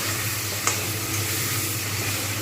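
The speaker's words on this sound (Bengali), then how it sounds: "চিকেনটাকে কিন্তু খুব ভালোভাবে ভাজবে" Chicken pieces fry in a pan for biryani with a constant soft sizzle, a single clink of a utensil cutting through near the start.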